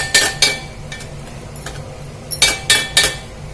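A spoon scrapes and clinks against a pan while dry coconut stuffing for modak is stirred, giving sharp metallic taps in two clusters with quiet scraping between them.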